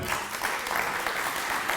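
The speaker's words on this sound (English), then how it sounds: "so one last round of applause for Todd." An audience claps steadily at an evening community talk about living with wildfire, a brief, even burst of applause without pause.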